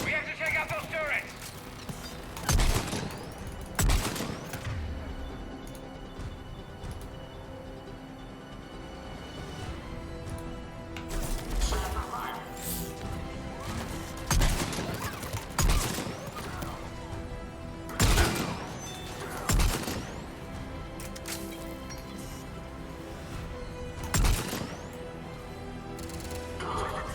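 Turret gunfire in Mass Effect 3 on Sur'Kesh, sharp booming shots and bursts scattered at irregular intervals over a steady game backdrop, with voices talking throughout.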